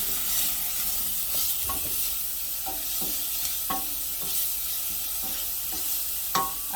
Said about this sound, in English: So you saute the onions and thyme together.